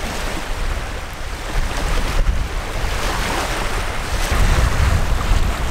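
Strong wind buffets the microphone over steady crashing ocean surf on a Nova Scotia shore, a loud continuous roar that swells toward the end, with no voices.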